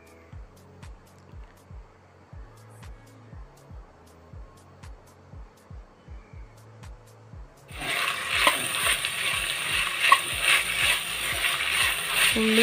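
Onions and green chillies being sautéed in a pan: a steady run of regular stirring scrapes, then a loud, broadband frying sizzle that takes over for the last few seconds.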